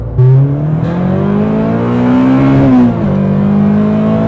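A tuned Nissan Micra's engine revs loudly up and holds a raspy, buzzing drone, dips sharply, then settles back into a steady growl nearby.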